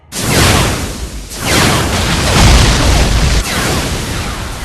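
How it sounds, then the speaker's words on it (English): A spaceship fires its main cannons in an anime space battle, producing loud, sustained roaring blasts in several heavy surges, each swelling and rolling on for a second or more, close and overwhelming, with no talking. "Fire main cannons!"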